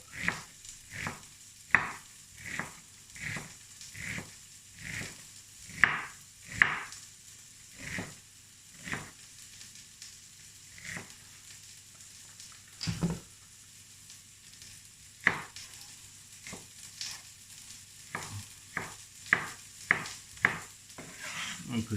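Carrots and onions sizzling steadily in a pan while being stirred, with a spoon scraping and tapping the pan at a regular pace over a long stretch, no voices.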